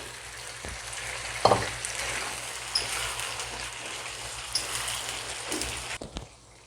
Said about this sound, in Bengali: এবার আমি কচুটাও কষিয়ে নেব।